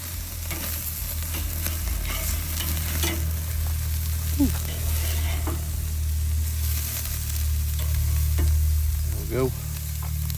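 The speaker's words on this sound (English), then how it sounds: "we'll go ahead and sear these on both sides" Burgers sear on a Weber kettle grill, a steady close sizzle running throughout with faint scrapes and taps of a utensil, and a brief spoken remark partway through.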